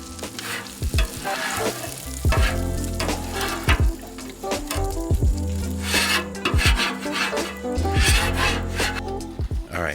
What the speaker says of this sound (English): You want to scrape off some of those bits to make sure that you don't have too much caramelization